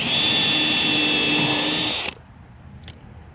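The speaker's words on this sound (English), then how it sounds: "I am pre-drilling it first." A power drill pre-drills into wood for a raised garden bed, a loud steady high whir lasting about two seconds before cutting off abruptly, followed by a brief faint click.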